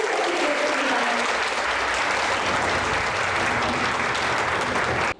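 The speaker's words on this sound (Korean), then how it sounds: "큰 박수 부탁드리겠습니다." Audience applause at the opening of the 2023 environmental startup competition event, a dense, steady wash of clapping from a large crowd that continues for about five seconds before stopping abruptly.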